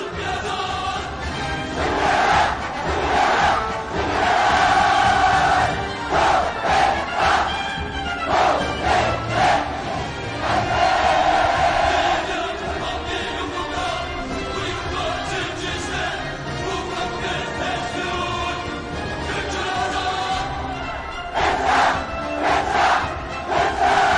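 Large crowd at a youth parade cheering enthusiastically with rhythmic shouts and applause, rising in loud waves and continuing throughout.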